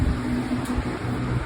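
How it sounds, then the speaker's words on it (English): A steady, low mechanical hum with a faint whir from a nearby electric fan droning throughout, with no other sounds. "sorry about the fan"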